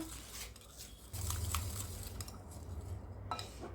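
A utensil stirs savory ham and spinach cheesecake batter, giving soft scraping with a few light clinks against the container, close and quiet.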